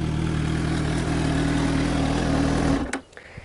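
A Suzuki GSR 600 motorcycle idles with a low, bassy, steady burble up close, then cuts off abruptly near the end, leaving near silence.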